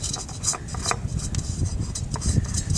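Oil filter spun by hand onto a 2000 Dodge Ram: a steady close rubbing, rasping scrape with faint metallic ticks, continuous for about three seconds and heard alone.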